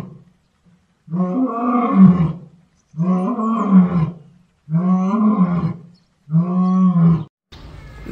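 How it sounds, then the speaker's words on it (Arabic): Four loud lion roars, each a long rumbling bellow with a tonal, growling texture, separated by short silent gaps in an even rhythm, heard close and alone. "lion lion lion"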